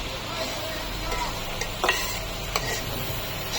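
Maggi noodles cooking in a pan at a noodle party, with steady stirring and a soft sizzle plus a few utensil scrapes against the pan, set under faint background murmur.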